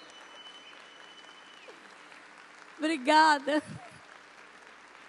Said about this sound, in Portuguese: Uma salva de palmas calorosíssima para os nossos debatedores.